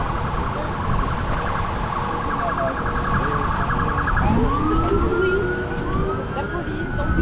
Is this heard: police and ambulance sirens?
yes